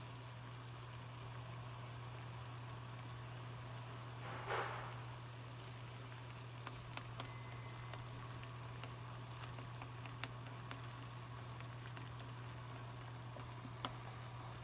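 Green leeks, or green onions, frying in a pan for Korean spicy noodles: a steady, faint sizzle under a low hum, with one brief soft rustle partway through and no talking.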